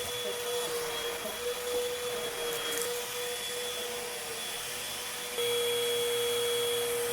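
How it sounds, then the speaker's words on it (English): A household vacuum cleaner runs steadily with a loud constant whine and hiss, a few faint crackles from large particles being sucked up, and a step up in intensity near the end; no talking. "You might hear some crackling sounds, but that's just the vacuum cleaner picking up large particles"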